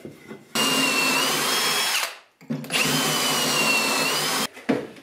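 A power drill whines at high speed boring pocket holes in a board, two sustained bursts of about a second and a half each, separated by a short pause, close and loud.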